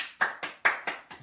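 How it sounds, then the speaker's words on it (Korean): Six or so sharp hand claps close to the microphone, coming in a loose, uneven rhythm with short gaps between them, heard alone in a quiet room. "박수죠"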